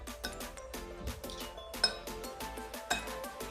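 Chana chaat ingredients (chickpeas, salt, chopped coriander, tamarind chutney) are stirred together in a bowl, giving rapid rhythmic clinks and taps of a spoon against the dish, moderately close and without talk.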